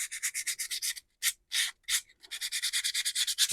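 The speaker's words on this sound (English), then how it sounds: "give it a very light sanding" A die-cast part for an O scale Mallard locomotive model gets light sanding in quick, rhythmic rasping strokes, a short burst, then a few separate scrapes and a brief pause before a steady run of even strokes resumes.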